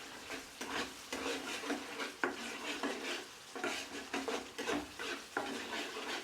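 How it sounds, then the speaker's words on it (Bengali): Spice paste for matar paneer fries in a pan under continuous stirring. Rhythmic scraping strokes ride over a gentle sizzle, and the spatula clinks against the pan now and then. "মশলাটা আমি অনবরত নাড়তে থাকবো,"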